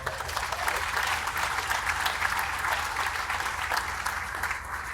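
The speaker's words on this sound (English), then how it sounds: "Please give them a round of applause." Steady, even applause fills a large room at a design-build competition awards ceremony as construction firms are recognised, a continuous wash of many hands clapping at a moderate distance with no voices over it.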